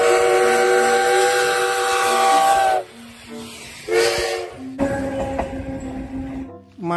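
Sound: Thomas toy train sounds

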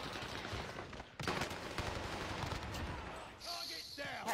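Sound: gunfire while shooting enemies in a video game

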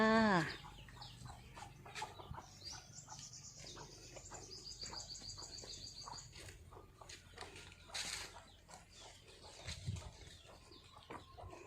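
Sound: chickens clucking in the countryside

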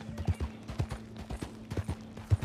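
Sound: horse hooves clip-clop in Red Dead Online video game

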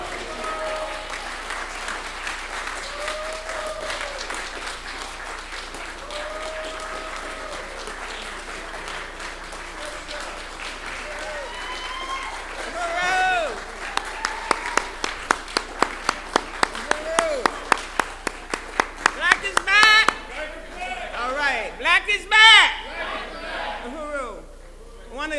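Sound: audience applause

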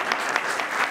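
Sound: applause

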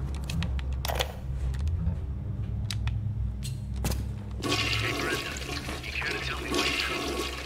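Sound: toilet flushing in the video game BioShock

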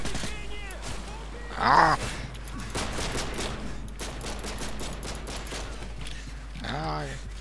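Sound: gunfire in Call of Duty: Modern Warfare 3 video game

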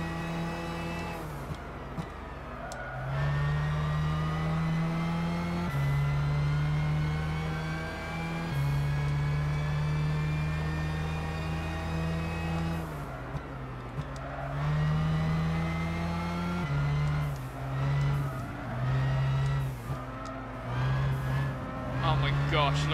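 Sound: GT by Citroën race car engine in Gran Turismo 6 video game

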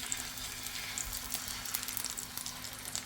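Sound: eggs frying in a pan

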